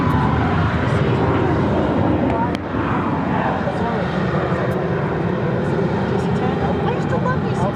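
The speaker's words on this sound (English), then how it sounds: "an A319 will be heading down for a takeoff here on the south side of 7 left" An Airbus A319 rolls for takeoff on runway 7 left at Phoenix airport, a loud, steady jet engine roar filling the whole stretch from close range, with faint voices mixed in.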